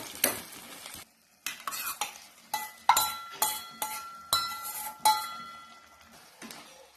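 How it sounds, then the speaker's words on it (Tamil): A spoon stirs and scrapes ingredients sautéing in a pan for a bottle gourd kootu, giving a series of close clinks and scrapes over a light sizzle, with brief pauses between strokes. "எல்லாத்தையுமே நல்லா வதக்கிடுங்க."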